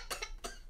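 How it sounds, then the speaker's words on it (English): A single short cough from a person indoors, close and fairly quiet, made of two or three quick bursts within under a second. "Did you just cough at my face without covering your nose?"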